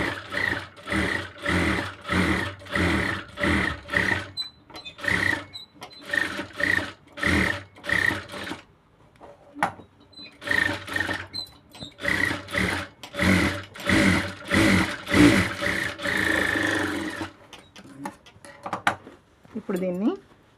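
A sewing machine stitches a blouse in rapid, rhythmic bursts of close mechanical chattering, pausing briefly between runs, with someone talking in the gaps and near the end.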